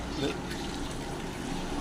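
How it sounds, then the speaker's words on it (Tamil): Water pours into a pot of tomato rice masala being cooked as temple offering, a steady splashing fill that runs the whole time under background noise. "இப்போ நம்ம தண்ணி சேர்த்துக்கலாம்"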